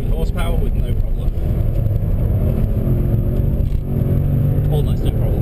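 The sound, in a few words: Jaguar XJR575 engine accelerating at full throttle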